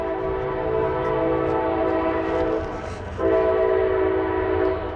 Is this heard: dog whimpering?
no